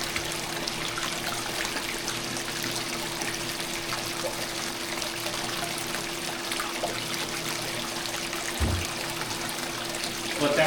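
Water runs steadily through a Gold Strike micron gold recovery machine, a continuous broadband rush with no talking over it.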